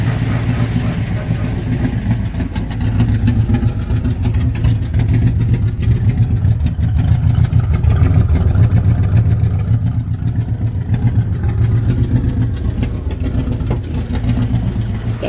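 A 1972 Plymouth Duster's 318 V8, long unrun, idles roughly and unevenly in a steady low rumble, fairly close, with occasional talk over it.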